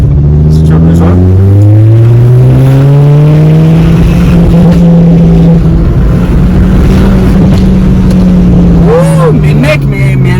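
A Renault Clio 4 GT accelerates hard, its engine note rising loud and close through the gears with a brief dip at each shift, filling the whole stretch with strong revving.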